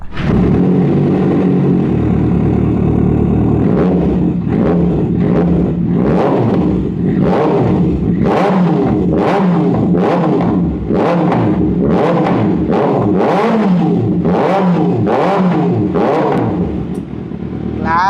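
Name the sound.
superbike engine revving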